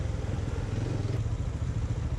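A motorcycle engine in sports mode holds a raised, steady rev on Delhi streets, a low continuous drone with slight clatter, fairly quiet and without talk.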